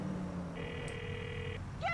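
Phone ringing in the GTA IV: The Lost and Damned video game, one electronic ring tone held for about a second over quiet game ambience, followed by a brief chirp at the end.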